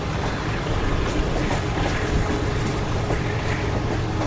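The Pak Business Express train slows on its approach to Yousaf Wala station, giving a loud, steady rumble of wheels and carriages heard from on board.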